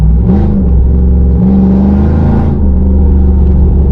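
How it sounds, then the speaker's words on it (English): Car engine burbling in third gear on a vehicle with a failing transmission, a steady loud low rumble with shifting tonal drone and slight pitch changes throughout, close and continuous with no talk. "I'll put it in third, and she'll kind of burble"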